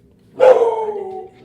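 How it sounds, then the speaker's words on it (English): A household dog lets out one drawn-out bark, close and fairly loud, lasting under a second against a quiet room, with a brief spoken word nearby. "If you guys hear barking, it's because we have a dog."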